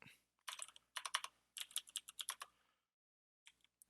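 Quick clusters of keystrokes on a computer keyboard, close and crisp, typed in several short bursts followed by a pause and a couple of final taps.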